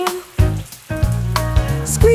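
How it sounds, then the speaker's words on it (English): Shower water splashes and patters in short bursts, close and fairly loud, with brief gaps between the sprays. "Robot takes a shower with a cheerful grin."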